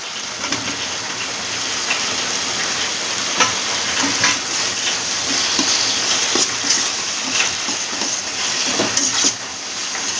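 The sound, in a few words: fried potatoes added to hot mustard oil, sizzling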